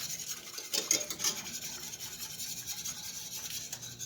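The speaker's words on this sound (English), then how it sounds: "Keep it stirred, because you don't want it to stick." Close, quiet scraping of a utensil stirring a roux in a pan for smoked mac and cheese, steady rubbing strokes with small bumps of contact along the way.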